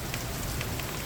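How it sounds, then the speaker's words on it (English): Heavy rain pours down during a supercell thunderstorm in Richmond Heights, a steady dense hiss of drops close by and loud, with no voices over it. "the rain is so heavy."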